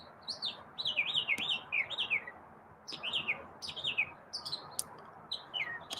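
Several birds give repeated bright, sweeping chirps in short bursts outdoors, fairly close, over a soft steady background hiss, with a few sharp clicks between calls.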